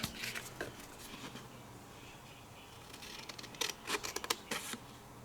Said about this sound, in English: I'm just going to cut it straight out.